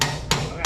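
Three sharp metallic taps, evenly spaced and close, as a sub-frame connector is hammered into place on a 1969 B-Body car.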